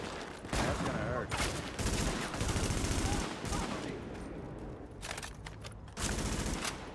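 Bursts of automatic gunfire and rapid shots in a firefight in The Division, set at West 24th and 8th, loud and near, coming in repeated volleys with short gaps, and voices are faintly mixed in.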